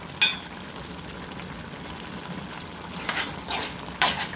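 A pot of curried trunk fish simmers on the stove, giving a steady soft bubbling hiss with a few brief sharper pops and spatters near the start and toward the end.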